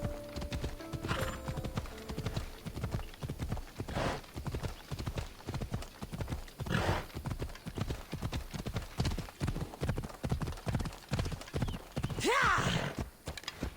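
Rapid, rhythmic hoofbeats of a galloping horse continue steadily throughout, ending with a horse's whinny near the close, in the video game Assassin's Creed Odyssey.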